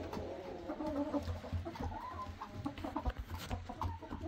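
Buff barred Wyandotte hen, a seven-month-old not yet laying, clucking on a farm with other chickens; soft, irregular low clucks and murmurs run steadily under a busy farmyard background without any talk.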